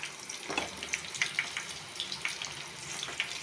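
Quiet crackling and popping of hot oil bubbling while frying raw banana chips, with scattered small sizzling bursts at an uneven pace.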